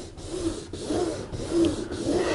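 A wad of solvent-soaked cotton wool rubs over a PVC boat hull to degrease it, making steady rhythmic swishing strokes at close range, with no voices.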